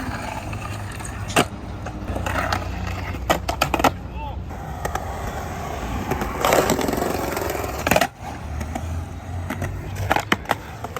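Skateboard wheels rolling and clacking at a skate park, with sharp board snaps and landing impacts around 1.5, 3.5, 6.5 and 8 seconds, loud and close, under scattered voices.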